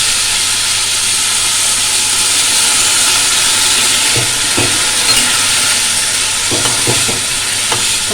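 Water poured onto frying spice paste for a Bengali chhanar dalna hits the hot pan with a loud, continuous sizzling hiss, joined by a few soft knocks from stirring near the end.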